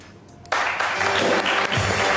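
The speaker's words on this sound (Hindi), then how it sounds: "आइए बैठ जाइए, बहुत सारी तालियां इन दोनों के लिए।" Studio audience applause on a television show, breaking out suddenly into dense, loud clapping that continues steadily to the end.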